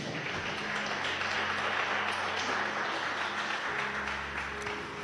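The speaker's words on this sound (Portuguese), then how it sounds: "Dê um aplauso para o Senhor." A church congregation at a Portuguese-language conference applauds together, a dense, sustained wash of clapping that carries on for several seconds with a low organ or keyboard tone underneath.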